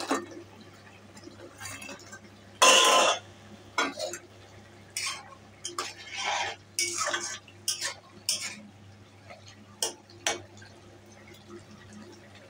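Fried lentil fritters drop into a pot of simmering potato curry, with sharp metallic clinks of a spoon against the pot and scattered stirring knocks over a low hum.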